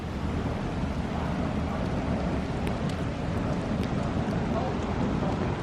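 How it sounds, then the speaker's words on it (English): Light rain falling outdoors beside a river, a steady soft hiss of drizzle with a low rushing undertone and no one speaking. "It is raining just a little bit though"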